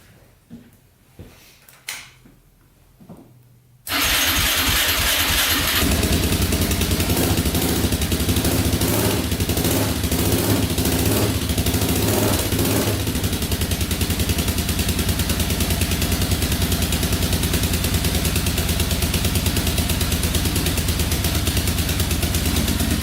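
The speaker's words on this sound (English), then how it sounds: "So let's try to start this thing up." After a few quiet clicks and clatters, a quad ATV engine cranks and roars to life, then settles into a steady, loud idle that continues without talk.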